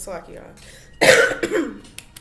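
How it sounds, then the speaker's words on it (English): A single harsh cough bursts out loud and close, followed by a couple of smaller throat-clearing coughs. "I'm trying to get over this cough"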